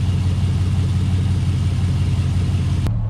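A truck engine idles steadily while warming up after its cooling system is refilled with fresh water, a close, even low rumble that holds constant before cutting off abruptly near the end.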